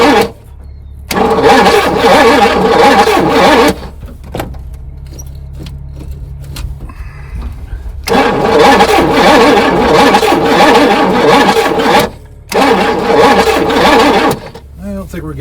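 A 1977 Pontiac Grand Prix engine cranks without catching: two loud, long bursts of starter churning separated by silence, then a shorter third attempt.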